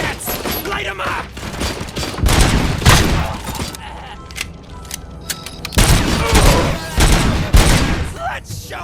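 Gunfire in the video game Robocop Rogue City, loud bursts of rapid automatic fire and heavy shots in clusters, with a brief lull in the middle and voices shouting amid the battle.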